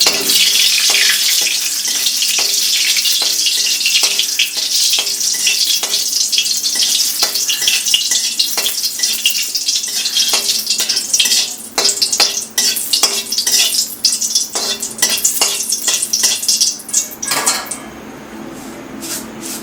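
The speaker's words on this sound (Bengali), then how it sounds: "তেজপাতা এখানে চলে গেল তারপর দিয়ে দেব কালো জিরে" Bay leaves and black cumin seeds sizzle loudly in hot oil for a Bengali rohu fish kalia, with steady hiss, repeated spoon scrapes and clinks against the pan, then quieter near the end.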